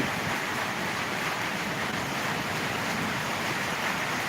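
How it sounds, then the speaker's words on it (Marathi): Heavy rain pours down steadily at the Balumama temple during a thunderstorm, a loud, dense, continuous wash of noise with no voices. "विजांचा कडकडाट होत आहे आणि मुसळधार पाऊस वाहत आहे"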